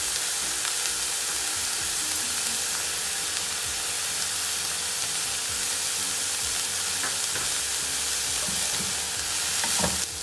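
Shredded cabbage and mushrooms sizzle and hiss in a hot pan for homemade egg roll filling, a dense steady frying crackle with occasional stirring scrapes, close and loud throughout without talking.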